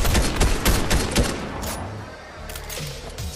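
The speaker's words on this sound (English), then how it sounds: "we're shooting him from behind" Rapid bursts of gunfire in the Fortnite video game, a dense volley of shots in the first seconds that thins into scattered, quieter reports.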